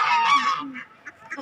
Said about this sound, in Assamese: কি ডাঙৰ ডাঙৰ চিনা হাঁহ এইবিলাক